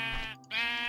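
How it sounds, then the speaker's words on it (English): A single sheep from the Minecraft video game bleats loud and close in one short, wavering call with a brief break in the middle, no voices over it. "Sheep."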